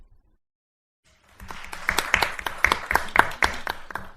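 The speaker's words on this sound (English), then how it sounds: "There's more applause than I got." After a second of silence, a small group at a city council budget meeting breaks into applause, with individual claps distinctly audible and fairly sparse, moderately close, lasting a few seconds.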